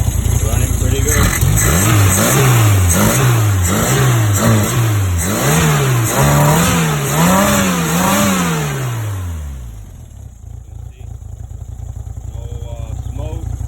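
A Renault R8 Gordini 1.4-litre engine with a mild cam runs nearby, loud and rough, revving repeatedly in rising and falling sweeps before settling to a steady lumpy idle.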